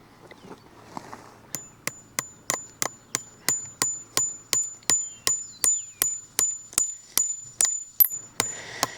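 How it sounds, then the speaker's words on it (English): A steady run of about twenty crisp hammer blows driving fence staples into a wooden post, evenly spaced and close, each a sharp knock with a faint metallic ring. "I'm going to nail in my fence steeples there and there."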